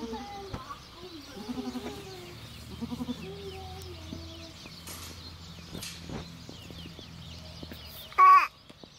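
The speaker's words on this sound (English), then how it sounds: "Oh, what do you think of the goats, Danny?" Several newborn goats bleat in short wavering calls, close by, with quiet homestead farmyard background and a few soft voices.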